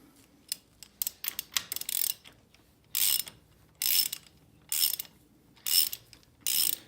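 A hand ratchet spins off a 3/4 axle nut on a Polaris Predator 500 ATV, giving quick rapid clicking bursts in short rhythmic strokes, close and crisp against a quiet background.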